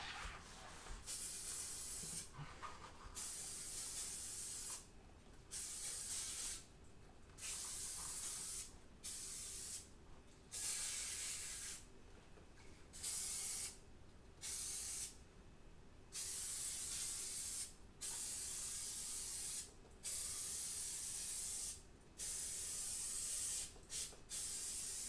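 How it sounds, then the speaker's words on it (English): An aerosol can sprays polish inside a desktop PC case in a string of short hissing bursts, each lasting about one to two seconds and separated by brief pauses, close and steady. "everywhere's been sprayed with polish"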